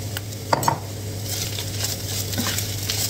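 Chicken pastil being stirred and mixed in a hot pan, a steady sizzle under the clatter and scrape of a utensil against the pan, with a few sharper knocks near the start.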